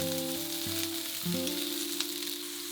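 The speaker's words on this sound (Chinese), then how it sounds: "这些食材我都是用的中小火，依次分开煎，煎至微微金黄就可以了。" Ingredients pan-fry over medium-low heat until lightly golden, for a garlic dish, giving a continuous close sizzle and crackle with a few sharper pops. Steady tonal background music plays underneath.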